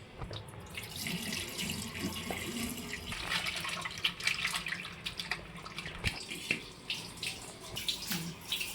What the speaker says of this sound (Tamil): தண்ணி ஊற்றி ஊற வச்சுருக்கீங்களா கருவாடு, அது இப்போ நம்ம வாஷ் பண்ணிக்கலாம்